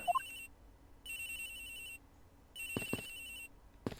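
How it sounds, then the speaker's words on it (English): A phone ringtone in the video game Ace Attorney Investigations trills in repeated one-second bursts separated by short silences, with a couple of soft thumps between rings. "phone. It's ringing from somewhere, sir. I hear it, Detective."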